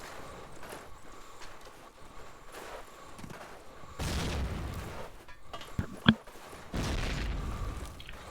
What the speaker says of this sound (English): Nice opening nade there from Archie, taking down Jones.